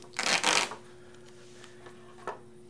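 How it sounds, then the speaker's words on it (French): Adhesive tape is pulled off the roll on a work table in one loud close ripping burst, then a faint tick follows. "Et je vais dérouler le ruban."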